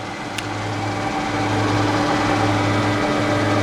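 A drill press runs at high speed, giving a steady motor whine and hum that holds an even level throughout, with one small click near the start.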